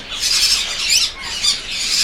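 Pair of tame Moluccan lories at a bird farm giving harsh, raspy squawks, repeated several times in quick bursts, loud and close with no talking.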